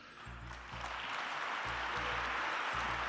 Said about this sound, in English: getting them to clap for that